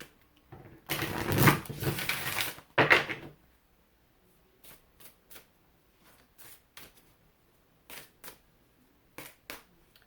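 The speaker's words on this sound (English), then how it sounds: "I'm going to shuffle and pull from the Natural Enchantments Oracle deck." An oracle card deck is shuffled in a riffling burst of papery flutter, followed by a second short shuffle and then several soft, separate card taps and slides, close and quiet.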